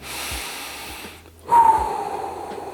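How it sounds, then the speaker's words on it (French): A slow, deep breath drawn in through the nose and let out again as a calming exercise, heard close and alone as a soft hiss with a brief pause in the middle. "inspirer par le nez, gonfler ton ventre, bloquer un peu et expirer"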